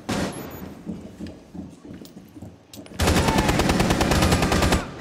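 Rapid automatic gunfire in Rainbow Six Siege on the Chalet map, a sustained loud burst of dense shots taking over after a few seconds of quieter game ambience and scattered clicks.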